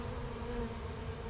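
Dense, steady buzzing of many honey bees at an open hive while a frame of brood and bees is moved, a close, continuous hum with no voices.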